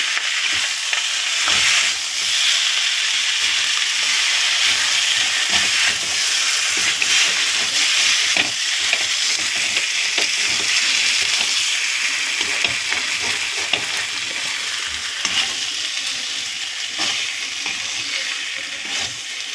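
Curry frying in oil over a high gas flame, stirred continuously: a loud, steady broadband sizzle and hiss with scraping stirs scattered throughout, close and without talk.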